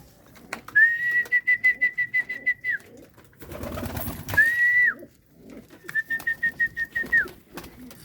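Pigeons gather to be fed, with rhythmic cooing and flapping nearby. A steady whistled call sounds three times through the birds' noise, likely a person calling the flock.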